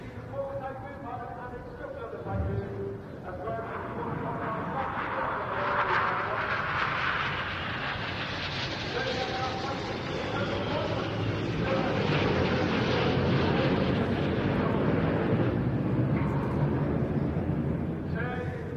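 Red Arrows synchro pair jets at the Bournemouth Air Festival fly low at an air display, a distant roar swelling and holding loud, with a commentator talking over it.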